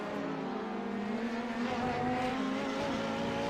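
A GT3 race car in iRacing howls under load and then downshifts, engine pitch stepping through gear changes as it brakes into the Mulsanne Corner at Le Mans, with faint tyre noise and no voices.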